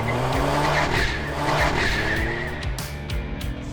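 A 2021 Genesis G70 3.3T twin-turbo V6, rear-wheel drive with an automatic, launches hard, its engine note climbing through rising harmonics with upshift breaks and tire chirp, loud and close throughout.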